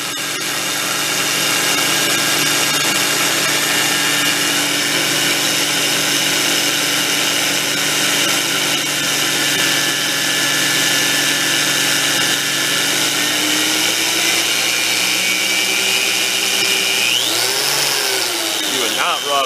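A 4 1/2 in. angle grinder fitted with a belt sander attachment runs loud and steady for a long stretch, then its pitch shifts near the end.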